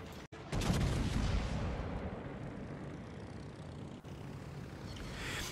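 Warship main guns fire in a naval video game, a big heavy boom followed by a long rumbling roar that slowly fades, distant and muffled, with a second smaller thump near the end and no talking.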